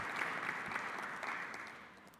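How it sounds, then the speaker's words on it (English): Conference delegates give a round of applause at an electoral commissions forum gathering, a dense, steady clatter of many hands that holds evenly throughout. "Let us give ourselves a round of applause for making it this far."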